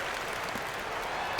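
Crowd cheering and applause in a basketball video game, a steady wash of arena noise sustained for a moment, swelling slightly at the end.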